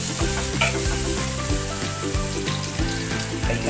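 Onions sizzle and fry in a hot pan for a Filipino kinamatisang pork buto-buto dish, with a steady hiss under background music.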